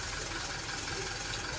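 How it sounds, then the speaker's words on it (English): A Mitsubishi Fuso Canter truck with a check engine fault idles steadily, a low continuous engine hum and vibration close by with no talking. "Right now the vehicle is running, but we have check engine."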